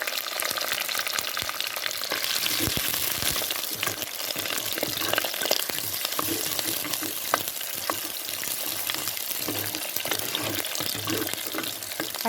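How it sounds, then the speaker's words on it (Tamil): Steady crackling sizzle of fennel seeds, cinnamon, curry leaves and onions frying in hot oil for mushroom curry, with occasional stirring clinks, close and continuous throughout. "ஆயில் காஞ்சிடுச்சு சோம்பு சோம்பு தாங்க போட்டு தாளிக்கணும்"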